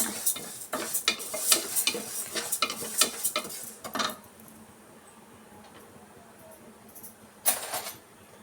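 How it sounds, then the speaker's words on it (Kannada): Moong dal being dry-roasted in a pan and stirred with a spoon: rapid dry scraping and rattling strokes up close, then a quieter pause with faint sizzle before a final stir. "ಹೆಸರುಬೇಳೆ ತಗೊಂಡಿದ್ದೀನಿ ಈ ಥರ ಚೆನ್ನಾಗಿ ಹುರ್ಕೊಳ್ಳೋಣ"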